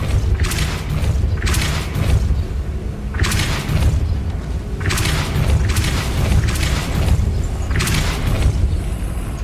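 Depulso force spell cast repeatedly in the Hogwarts Legacy video game, a series of about six loud booming thuds at a steady rhythm over a dense, rumbling game backdrop.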